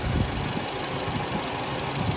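Steady low rumble of a 2009-2015 Toyota Venza engine idling close by during a coolant change, a continuous even drone with no voices.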